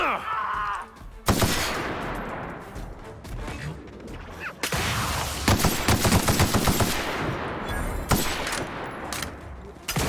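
Rapid automatic gunfire from firearms in The Outer Worlds video game, loud sustained bursts with brief gaps, filling most of the clip under occasional faint talk.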